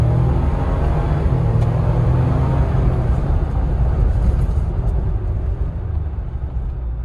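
A 2023 Ford Bronco with a turbo accelerating under load, a deep, loud engine rumble building steadily and then easing slightly toward the end, with no talking.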